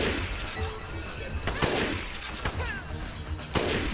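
Gunfire in Dead Rising crackles in several loud, sharp shots spread across a few seconds of busy in-game noise.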